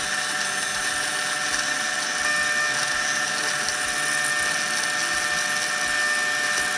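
A drill press gives a steady, continuous high-pitched whine, loud and constant for several seconds with no talking, drilling a hole during knife making.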